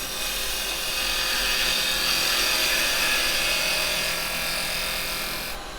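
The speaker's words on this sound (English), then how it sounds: "I'm going to just use my detail chisel to butt that up and get a nice square edge on it" A carbide detail chisel cuts end grain pine spinning on a woodturning lathe, giving a steady, loud, close hissing scrape that holds for several seconds with no talk.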